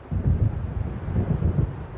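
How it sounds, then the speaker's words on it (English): Low, rolling thunder from an approaching storm in the Alan Wake video game, rumbling in uneven swells through the whole stretch with a faint windy hiss above it, moderately loud and with no voices. "It seems there's a storm coming."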